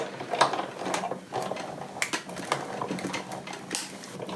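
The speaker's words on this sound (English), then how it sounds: "I'm going to run it through my die cutting machine" Die cutting machine cranking paper through with a stamp die, an uneven run of ratcheting mechanical clicks and grinding rolls, close and moderately loud.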